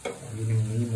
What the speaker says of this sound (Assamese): লৰাই থাকিলে ভাল আপোনাৰ পিয়াজখিনি ভাজি হ'ব হৈছে